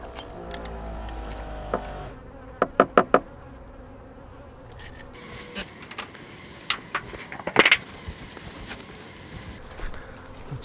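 Honey bees buzzing around a small swarm hive with a top feeder, a constant low hum under scattered close knocks and clinks of hive equipment, no talk.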